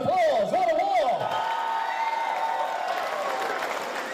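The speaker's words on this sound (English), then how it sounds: "I think both of these fighters deserve another big round of applause" A boxing crowd cheers and claps for two fighters after a hard-fought bout. A loud whoop or shout swoops at the start, then a steady wash of distant applause and crowd noise carries on evenly.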